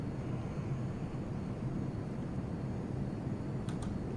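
An F-22 Raptor's jet engines in the Prepar3D flight simulator over Tokyo, a continuous loud, even roar, with two brief clicks near the end.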